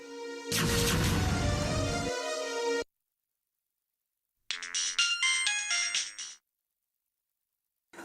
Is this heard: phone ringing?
yes